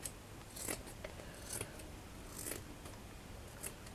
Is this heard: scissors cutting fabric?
yes